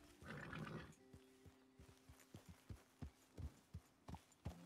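Horse hooves clop in a steady riding rhythm in the Red Dead Online video game, distinct close thuds following a brief burst of other noise at the start.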